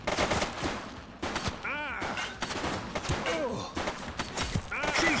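Rapid gunfire cracks in a police shootout in the video game The Precinct, dense bursts of shots close by, with voices talking over the firing.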